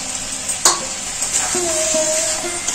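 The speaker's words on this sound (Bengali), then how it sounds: "এই মাটনটা অল্প করে কষানো হলো, এখন একটু কষাবো" Mutton with tomato being sautéed in spiced oil in a pan, a steady bright sizzle punctuated by a sharp clink of a utensil and brief squeaky scraping stirs, close and clear.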